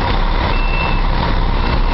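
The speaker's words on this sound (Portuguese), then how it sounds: "O manobrista tá manobrando ele aí" A vehicle's reversing alarm beeps steadily as a valet maneuvers it out of a car wash, the loud, continuous high tone sitting over heavy engine rumble and broadband noise, close and without talk.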